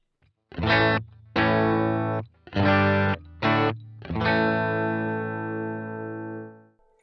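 An electric guitar runs through a Boss GT-1 preamp on its default patch, playing four short distorted chords in a halting rhythm and then one long chord left to ring and fade.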